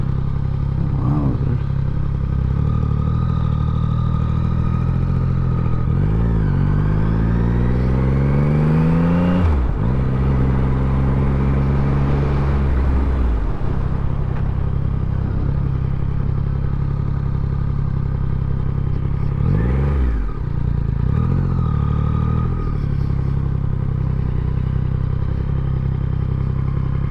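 Yamaha MT-09 motorcycle engine revving hard through several rising gear pulls, with quick-shifter cuts between gears and a loud, close exhaust note that drops and climbs again.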